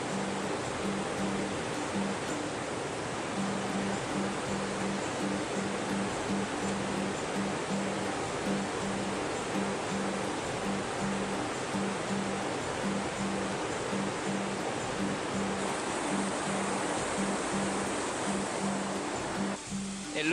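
Continuous rushing river water below a collapsed bridge on a Himalayan trail toward Namche, a broad steady roar from about ten metres down, with a faint low hum running through it.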